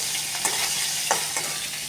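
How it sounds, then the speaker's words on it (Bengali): A fish head fries in hot oil, a continuous bright sizzle with a few brief scrapes of stirring breaking through, loud and close with no talking. "আমি ওই তেলেই মাছের মাথাটা ভেজে নেব"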